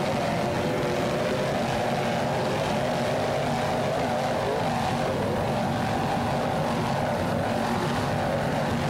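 A 40-foot Fountain powerboat races among other boats at Daytona, its engines a continuous, loud, droning roar that holds steady and fills the whole stretch.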